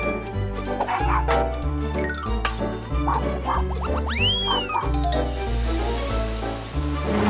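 A cartoon dog barks repeatedly in short yips over bouncy children's cartoon music, with whistle-like sliding effects in the middle.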